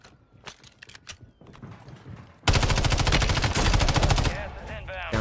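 Rapid video-game gunfire bursts loud and close during a sweaty online match, a dense volley of shots dominating the second half with scattered lighter shots and player chatter before it.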